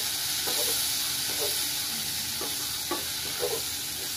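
Tomato sautés with already-browned onion in a pan, a dense continuous sizzle and hiss broken by several light spatula strokes against the pan at irregular intervals, close and clear, with no voices.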